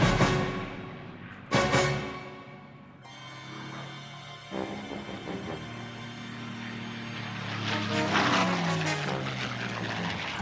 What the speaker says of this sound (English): Here the British were using aircraft, including the Spitfire of World War II fame, to bomb and strafe suspected communist terrorist camps.